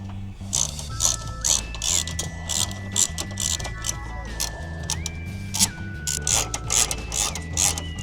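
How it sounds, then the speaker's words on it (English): Ratchet turning the 12 mm bumper bolts on a Honda Civic EF: rapid, steady clicking close by, continuing for several seconds with brief pauses and a faint tonal layer underneath. "just gotta remove these 2 bolts on both sides to remove the bumper itself"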